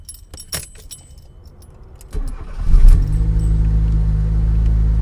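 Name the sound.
car engine starting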